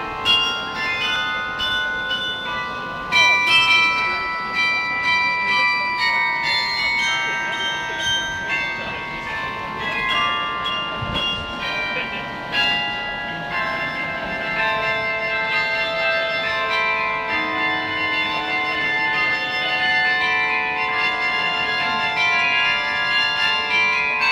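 Several church bells ring together in a concerted peal, their overlapping metallic tones sustained and reverberant throughout, with faint background voices at moments.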